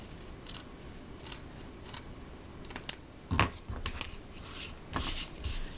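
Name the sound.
scissors trimming paper card panel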